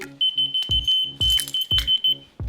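A small electronic key finder fob sounds rapid high beeps in quick bursts, broken by several loud thumps or knocks, close and sharp.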